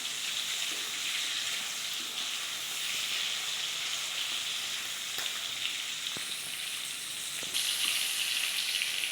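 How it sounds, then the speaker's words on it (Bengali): Crabs frying in hot oil in a pan, a steady bright sizzle and crackle with occasional sharper pops, close and continuous with no talking. "এই কাঁকড়াগুলিকে আমি লাল লাল করে ভেজে নেব।"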